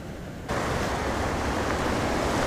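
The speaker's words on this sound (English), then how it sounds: "This is just one of the most beautiful creeks I have ever seen." A clear mountain creek rushes steadily near the microphone, a broad, loud wash of flowing water that swells suddenly half a second in and then holds constant.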